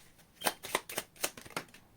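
Quick, crisp riffling of tarot cards being shuffled, a series of soft snapping flutters in an uneven rhythm, close and fairly quiet.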